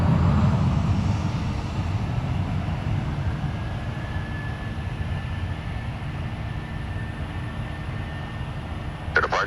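A Southwest airliner's engines roar steadily and loudly as it departs Orlando International Airport, the low rumble holding throughout without talk, and a brief click comes near the end.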